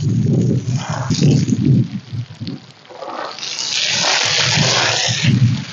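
Water poured onto guava plants in an orchard, a loud rushing gush that swells after some nearby talking and runs steadily outdoors, close to the listener.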